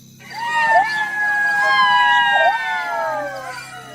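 Jackals in a forest howl together at dusk. Several long, rising and wavering cries overlap and hold steadily for a few seconds. They are fairly loud and close, with no talking.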